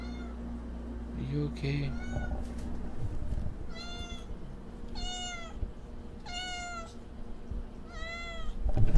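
A female cat in heat meowing loudly and insistently, several drawn-out, wavering yowls at close range over a constant background hum, with a person briefly speaking early on.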